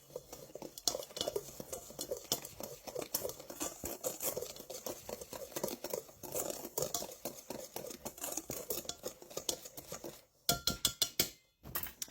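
Dry flour, cornmeal and sugar being stirred together in a bowl, with dense, continuous scraping and clinking of a utensil against the dish, followed by a few louder separate knocks at the end.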